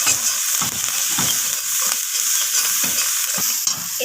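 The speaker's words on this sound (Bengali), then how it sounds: "তো ধনিয়া পাতাটা দিয়ে আবারও নাড়াচাড়া করে নিলাম।" A spoon stirs coriander leaves into a sizzling tomato rohu fish curry, with close scraping strokes in an irregular rhythm over a steady frying hiss, no talking.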